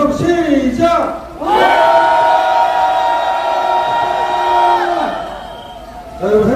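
A crowd at a Saturday citizens' street rally lets out a long, loud collective shout of several seconds, with voices rising together and then trailing away, between shorter bursts of calling at either end.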